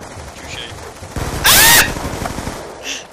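Rapid pistol shots are hip-fired in a first-person shooter match, cracking in a quick burst with a loud, excited voice shouting over the gunfire.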